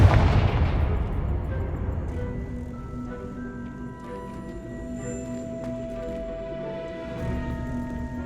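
A Confringo fire spell in Hogwarts Legacy, heard as a loud burst at the start that decays into a long ringing, crackling tail with sustained magical tones, with no talk over it.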